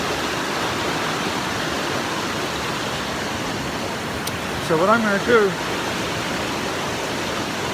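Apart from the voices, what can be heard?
running brook stream near Mosquito Flat trailhead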